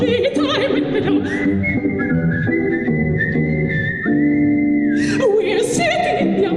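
A person whistles a melodic tune over music from a song, with long sustained notes and small slides, clear and upfront in the mix.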